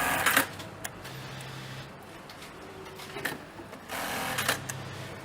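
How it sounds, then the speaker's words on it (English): A sewing machine attaching mother of pearl buttons to a bespoke shirt, heard as a steady mechanical whir with intermittent clicks and short bursts of stitching at close range, with no speech. "going to sew the buttons onto you"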